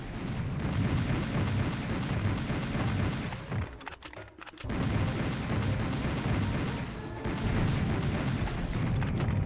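Heavy cannon fire in the video game Serious Sam Classic: The First Encounter booms over and over in a dense, continuous barrage, loud and close, with a short lull in the middle before the pounding resumes.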